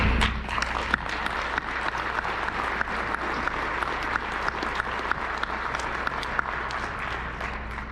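Sustained audience applause welcoming Michael Downie to the lectern at an UNDRIP 2020 event, steady dense clapping from a crowd with no talk over it.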